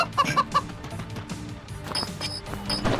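A chicken in the Moving Out video game gives a quick run of three clucks near the start, then fades behind busy game sounds and background music, with no talking.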